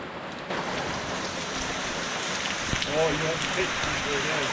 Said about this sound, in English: The intensity of the rain is so strong